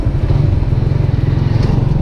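A Suzuki Raider 150 carbureted motorcycle idles very low with a fault, its close, loud engine throbbing in a steady, slightly uneven low pulse with no voices.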